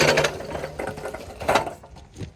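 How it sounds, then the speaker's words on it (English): A Badland off-road jack lifts a vehicle by the rear axle, making a steady mechanical whir and grind that pulses and fades near the end, close by with no speech. "All right, so lifting with the Badland."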